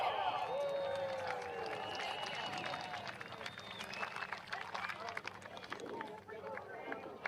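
A crowd at an American Flat Track motorcycle race at Daytona Short Track cheers and whistles for a rider, a broad roar of voices and shouts that rises, holds and slowly thins out.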